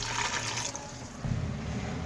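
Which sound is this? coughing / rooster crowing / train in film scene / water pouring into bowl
water pouring into bowl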